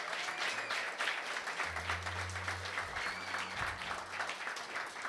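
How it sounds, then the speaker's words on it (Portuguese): A church congregation applauds during a worship service, a quiet wash of many hands clapping with a low sustained hum beneath it. "Vamos aplaudir o Senhor pela vida da missionária Érica"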